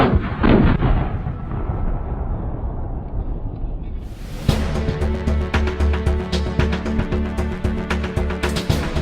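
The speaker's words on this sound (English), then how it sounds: "they practice their skills on the deadly Carl Gustav rocket launcher, an anti-tank recoilless rifle" A Carl Gustav anti-tank recoilless rifle fires with a heavy, booming blast and a long rumbling decay, followed by a sharp, dense burst of loud rapid reports.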